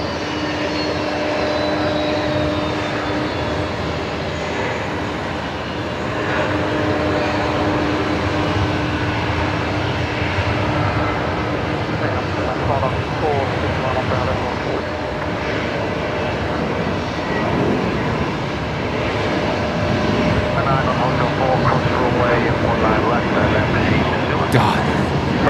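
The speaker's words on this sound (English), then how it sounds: "This is Jetstar 569 heading down to Melbourne this evening." A Jetstar jet airliner departing Brisbane Airport in the evening, a steady broad engine roar holding throughout, with voices talking over it.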